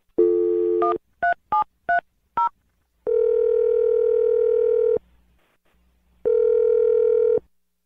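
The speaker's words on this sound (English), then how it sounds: "We're going to dial the phone number right now" A telephone dial tone, then a quick series of separate touch-tone beeps as a number is keyed in, followed by two long ringback tones with a pause between them. The tones are loud and clear, with no talking over them.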